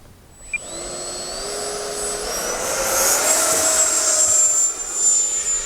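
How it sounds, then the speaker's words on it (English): An FMS Yak-130 RC jet with an in-runner electric ducted fan takes off, its high, whining fan note swelling steadily louder as it climbs away, heard alone in the open air. "Taking off the FMS Yak-130 this time. This one has the in-runner fan."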